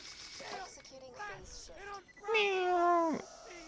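Cartoonish cat meows from the video game Borderlands 2, a few short meow-like calls and then one louder, drawn-out meow near the end, sounding clear and close with no talk over them.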